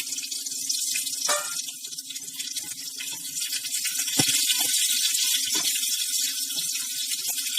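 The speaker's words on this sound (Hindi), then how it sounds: "तो अब मैं इसके अंदर शैलेट्स डाल दूंगी" Shallots tipped into hot oil for a shallot curry, giving a steady broadband sizzle with a few clinks and rattles of the pan and spoon on top, loud and close, with no talking.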